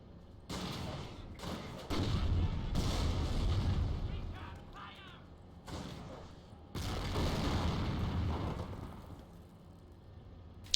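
Booming anti-tank PIAT fire and explosions in a World War II strategy video game, several heavy blasts and rumbling bursts at intervals, heard under a commentator's voice.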